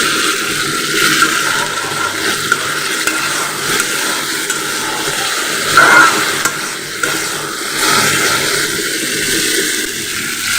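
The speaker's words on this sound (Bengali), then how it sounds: "এটা আমরা 2 থেকে 3-4 মিনিট আমরা এটা কষিয়ে নিব।" Hilsa fish curry masala sautéed in a pan with a little water, a continuous soft sizzle with intermittent spatula scrapes and stirring knocks, close and moderately loud, no speech.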